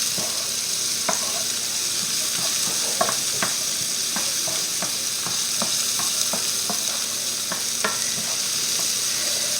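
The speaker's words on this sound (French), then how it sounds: "On fait revenir nos oignons à peu près, allez, mais en fait il faut qu'ils deviennent translucides." Onions frying in a pan, a constant close sizzle with frequent scraping knocks of a utensil stirring them in an irregular rhythm.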